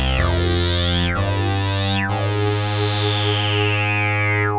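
A synthesized tone run through a wide chorus effect from the Orbit modulation plugin, with swirling, distorted harmonics and three sweeping downward pitch glides, loud and continuous with no talking.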